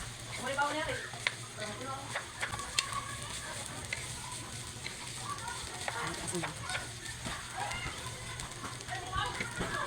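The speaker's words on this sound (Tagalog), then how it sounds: "At kailangan haluin itong mabuti para ma-mix ang lahat ng panimpla sa ating rice." Garlic rice, chao fan style, stirred with seasoning in a hot frying pan: continuous close sizzling with repeated scraping and clattering strokes of the utensil, and a voice speaking intermittently underneath.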